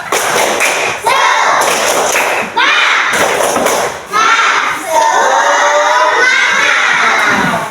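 A class of schoolchildren performs the rhythmic tepuk semangat clapping chant, loud group shouting punctuated by bursts of claps and thumps in repeated phrases, close and energetic.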